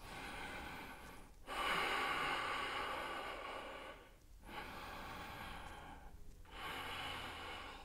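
During a yoga pose, slow deep breaths move audibly through the nose and mouth in long airy inhales and exhales, about three cycles, close and soft, with no talking.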